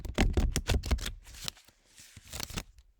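Playing cards riffle in a quick series of sharp, crisp bursts, then a pause and a final cluster of snaps, close and loud with no talk.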